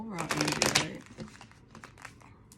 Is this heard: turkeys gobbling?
no